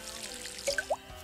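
Water pours into a watering can in the game Garden Simulator, a short run of soft drips and trickles with a few bright gurgling splashes near the end, heard alone.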